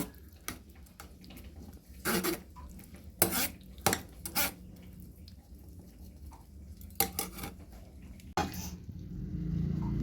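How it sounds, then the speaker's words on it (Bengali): Homemade tomato puree is pushed and strained through a sieve for a sauce. Scattered scraping clinks and knocks of metal against a bowl sound close by, separated by quieter pauses, with a wet rush of sound at the end. "ভালোভাবে চেলে নিচ্ছি"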